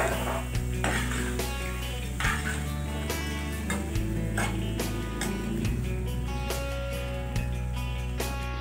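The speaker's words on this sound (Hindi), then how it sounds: "अच्छे से ज़रा मसाले में हम भून लेते हैं।" Black chickpeas stirred and fried in a spice masala, a steady sizzle with repeated scraping and clinking of a spoon against the pan, close and continuous with no talking.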